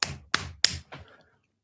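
Four sharp hand claps in quick succession, close and loud, the last one softer, then silence.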